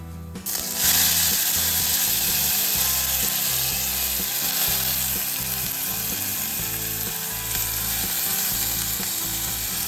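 Rice is tossed into a hot pan with cinnamon, setting off a loud, steady sizzle with rhythmic scraping and stirring scratches throughout, no voices.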